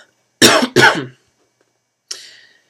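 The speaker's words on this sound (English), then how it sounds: "still got a bit of a cough left over" Two harsh coughs in quick succession, then a shorter, softer cough after a pause, close by with no talking.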